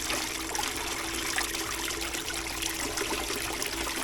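Water swirling and trickling in a bucket as rocks are washed, a steady close splashing wash with gentle gurgles throughout and no voices.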